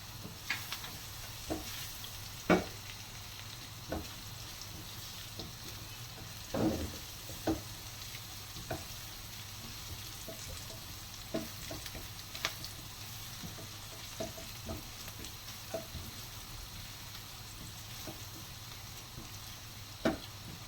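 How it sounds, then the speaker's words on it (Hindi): Chicken manchurian ingredients frying in a pan with chopped green chilies, a steady low sizzle under scattered stirring clicks and taps, close and moderately quiet with no talk. "1 से 2 मिनट हम इसको फ्राई करेंगे और फिर हम इसमें ये 2 कटी हुई ग्रीन चिलीज डाल देंगे"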